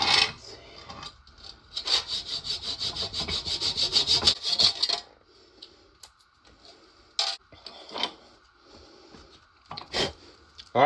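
Hand sawing through a wooden block to trim its height, a steady run of rough back-and-forth strokes for about five seconds, followed by a few separate short scrapes and rasps with quiet gaps between them.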